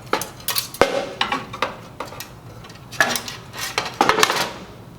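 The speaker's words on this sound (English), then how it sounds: "Lift the bottom platen, flip upside down, and set back onto the grill assembly." A metal bottom platen on a Star two-sided grill is lifted, flipped and set back down, giving a string of sharp metallic clanks and scrapes, close and fairly loud, with no talking.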